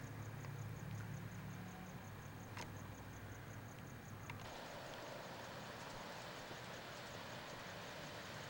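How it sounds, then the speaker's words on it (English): An outdoor model railroad train of 20 cars behind three USA Trains diesel locomotives runs past with a steady rolling rumble and a high whine, close by and alone. "It's a 20-car train behind 3 diesels."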